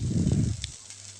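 Dosa batter roasting on one side on a hot griddle until crisp, giving a close, steady hiss and sizzle that thins out and quiets after about half a second.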